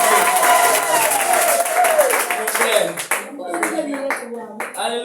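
A church congregation bursts into applause for the Lord, a dense crowd of clapping hands that thins out partway through into scattered claps, with voices calling out over it.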